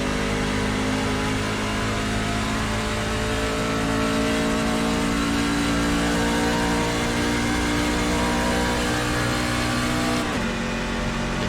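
A NASCAR Class C truck engine in iRacing at Las Vegas Motor Speedway drones loudly and steadily at high revs, then the pitch drops sharply near the end as the throttle lifts.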